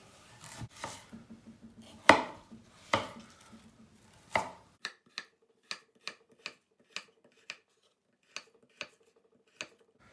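Knife chopping food on a board, first in a quick irregular flurry of thuds, then steady evenly spaced chops, close and fairly loud, with no talking.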